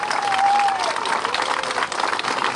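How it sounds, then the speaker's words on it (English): Crowd applause at an outdoor marriage equality rally in St Helier, Jersey, with steady clapping throughout and a brief whistle near the start. "Let's have a round of applause for the young people."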